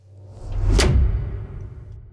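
A single cinematic whoosh impact with aggressive parallel compression from a supercharger, already loud from the start, cracks at its peak with a bright transient over thick low rumble, then sustains a long, dense tail, without any speech.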